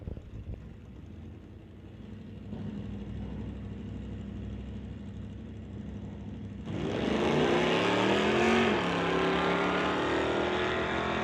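Chevrolet and Plymouth drag race cars at an NHRA Summit ET series event idle with a low rumble, then launch with a sudden loud engine roar that climbs in pitch as they accelerate away down the quarter mile.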